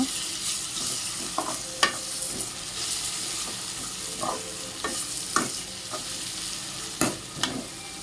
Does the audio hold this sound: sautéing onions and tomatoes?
yes